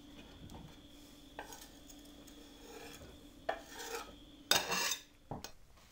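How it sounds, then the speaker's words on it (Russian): Knife slicing onion on a cutting board for a simple green soup, quiet scraping and rasping strokes with a few sharper chops toward the end, close and otherwise quiet. "Такой способ есть нарезки лука."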